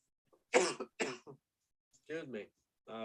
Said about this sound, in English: Damn it, I couldn't make a podcast without coughing.